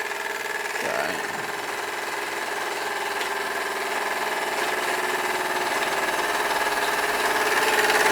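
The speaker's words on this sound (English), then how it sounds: "you can hear the pitch of the engine change as the load is taken off" A model steam engine driving a small generator runs steadily with a continuous mechanical whirr and tonal hum, its pitch gradually shifting as the electrical load is taken off, close and without talk.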